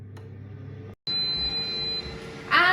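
An air fryer cooking boneless frozen chicken thighs gives a steady beep tone over a low hum, after a short silence, with a brighter burst of higher sound near the end.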